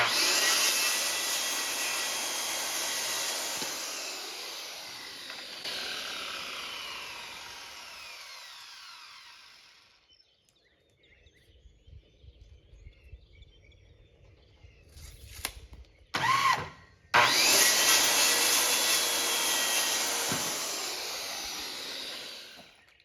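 A wooden brace piece, likely 2x4 lumber for a swarm trap platform, is cut with a loud, steady power saw that runs for about ten seconds, stops, then two short bursts and another sustained cut follow.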